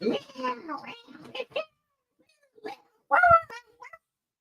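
A person's voice imitates a cat meowing, a couple of drawn-out mewing calls with brief talking around them.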